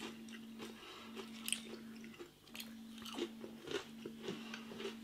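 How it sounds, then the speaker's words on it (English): Crispy oven-baked batter on a jumbo pork sausage crunches under repeated bites and close, wet chewing, with a steady low electrical hum running underneath. "You can hear the crunch"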